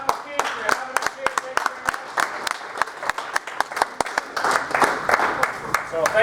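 Audience applause at a live music show at the Copper King in Butte, with loud sharp claps at first that swell into sustained clapping toward the end, a voice heard over it early on.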